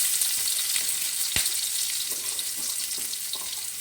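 Cumin seeds and black peppercorns sizzle and crackle in hot oil as the tempering for mutton kulambu begins, a steady close frying hiss with a sharp pop or clink partway through and faint stirring.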